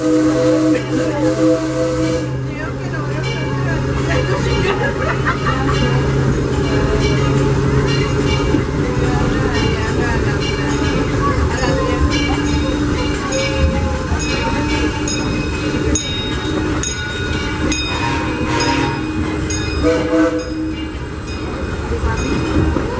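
Disneyland Railroad steam locomotive Ernest S. Marsh #4 pulling passenger cars through the park, a steady near rumble and clatter of wheels with hissing steam and a low whistle-like tone at the start, heard from aboard the train.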